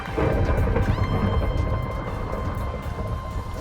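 A loud thunderstorm in the video game Minecraft, with steady heavy rain and rolling thunder filling the whole stretch without a break, dense and close, and no voices over it.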